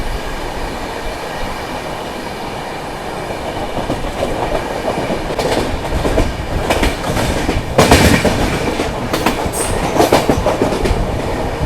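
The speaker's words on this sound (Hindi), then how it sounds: "एक साथ तीन गो ट्रेन बैक टू बैक" Several trains pass back to back on the tracks at Badarpur, a loud, continuous rumble with rhythmic wheel clatter, swelling midway and growing harsher with squeal-like bursts toward the end.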